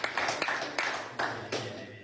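Audience applause in a Venezuelan talk show studio, a few short bursts of clapping in loose rhythm, moderately close and over quickly.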